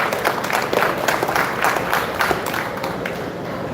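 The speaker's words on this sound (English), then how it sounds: "let's give Eric another round of applause" Audience applause at a live knife show in Texas, a crowd clapping for a bladesmith after a forging demonstration; broad, sustained clapping that stays fairly even and slowly tapers, with no speech over it.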